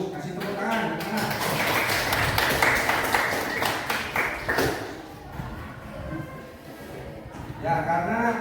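Students in a classroom clap together in a quick burst of overlapping claps, dense for several seconds before fading, with a teacher's voice and other talk mixed in.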